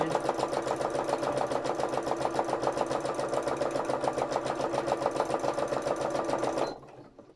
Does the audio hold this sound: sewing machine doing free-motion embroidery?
yes